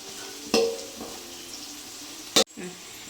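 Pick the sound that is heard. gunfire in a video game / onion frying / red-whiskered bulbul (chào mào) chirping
onion frying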